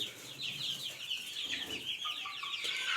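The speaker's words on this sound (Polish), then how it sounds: "Kurczaki, nioski, w sensie stada niosek." A flock of laying hens clucking together close by, a dense, continuous chatter of overlapping clucks and calls with no talking over it.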